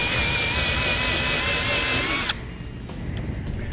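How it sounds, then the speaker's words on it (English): A power drill with a half-inch bit grinds out a rivet on a Ram trailer jack, a loud continuous high whine and rasp that cuts off abruptly after about two seconds, leaving quieter clicking and handling noise. "What we're gonna do is use a half inch drill bit right in the middle of that"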